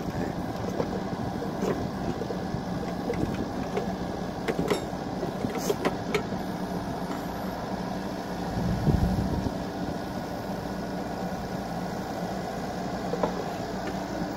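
A Volvo EC60E mini excavator with a Kubota engine works a rice paddy, building up an embankment. Its engine runs as a steady low rumble at middle distance, with faint clanks and a brief heavier thump midway.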